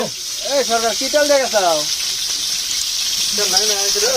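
Chicken meat sizzling in a wok at an outdoor picnic cookout, a steady loud frying hiss running throughout while a voice talks over it in short bursts.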